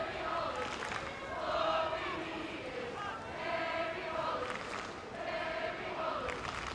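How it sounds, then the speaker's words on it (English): Liverpool away supporters sing at a women's football match against Manchester City. The chant is a distant, faint crowd sound that rises and falls in waves and stays steady throughout. "Kerry Holland getting serenaded by the away fans."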